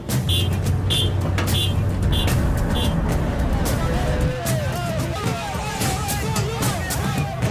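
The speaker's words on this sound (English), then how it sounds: "So there's over 100 trucks here" A column of over a hundred military trucks loaded with heavy weaponry such as anti-aircraft and anti-tank guns rumbles past in a dense, continuous roar of engines, with a steady rhythmic beeping early on and crowd chatter mixed in.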